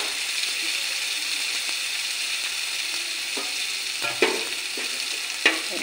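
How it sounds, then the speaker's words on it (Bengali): Spice paste of green chili, Kashmiri chili powder, turmeric and salt frying in oil for a boal fish mustard curry, a constant bright sizzle broken by a few scraping stirs of a spatula. "পুরনটা ভালো করে কষে নেব।"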